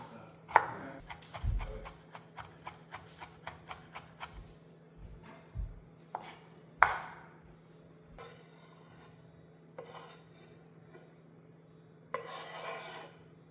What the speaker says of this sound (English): Let's mince some ginger.